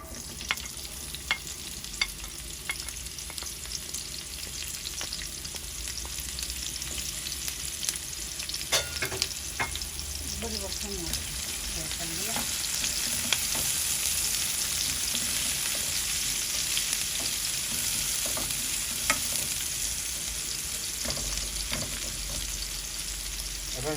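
Garlic fries in a pan for a Bengali home-style dish of pangas fish with radish and radish greens, a steady close sizzle with occasional clinks and stirring scrapes running throughout, no talking.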